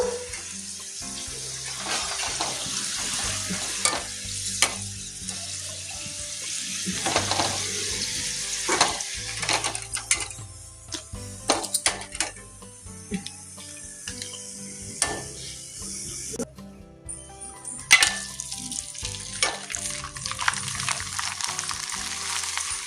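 Potatoes for aloo kurma fry in hot oil with a steady sizzle and crackle, joined by intermittent scraping and stirring clatter against the pan over a long stretch.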